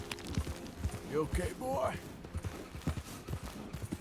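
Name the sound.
horse hooves clip-clopping in Red Dead video game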